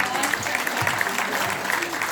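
Steady, dense audience applause fills a short stretch, with many hands clapping evenly at moderate loudness.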